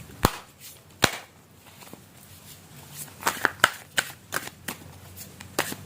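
Tarot cards are shuffled by hand in a series of sharp riffling snaps and soft slides, close and crisp in a quiet room, with no talking.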